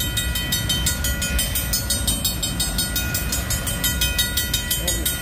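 A BNSF freight train rolls steadily past close by, its wagons producing a continuous loud rumble with regular rhythmic clicking from the wheels on the rail joints throughout, and no voices.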